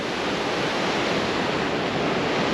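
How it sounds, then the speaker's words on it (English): Steady broadband roar of the incoming coastal tide washing against rocks, mixed with gusting wind in high winds during a yellow weather warning, continuous and fairly loud with no speech. "Yeah, this tide's coming right in now."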